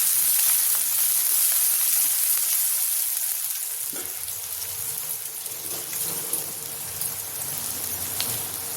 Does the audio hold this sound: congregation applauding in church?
no